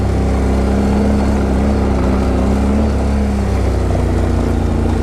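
An ATV engine drones loud and steady while riding a trail in Renfrew County, a constant close rumble with no breaks.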